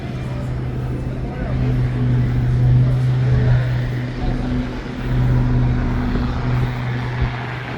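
A propeller aeroplane drones overhead in Vancouver, its low engine hum swelling and easing steadily against a broad outdoor background noise.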